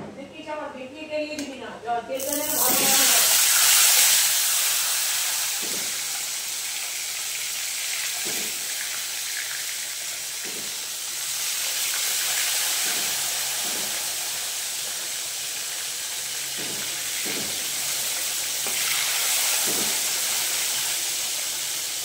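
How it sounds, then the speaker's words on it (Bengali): Bhola fish sliding one by one into hot oil in a kadai, a loud burst of hiss settling into a steady broad sizzle with faint clinks, continuing throughout. "এইবারে এক এক করে আমি মাছগুলোকে ভাজার জন্য ছেড়ে দেব"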